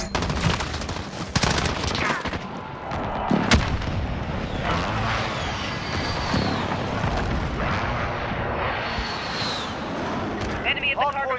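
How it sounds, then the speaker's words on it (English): Airstrike explosions and battlefield gunfire rumble in Call of Duty: Modern Warfare. Heavy booms and rattling volleys continue throughout, loud and close, with in-game voices speaking over them. "Enemy position airstrike. Take cover."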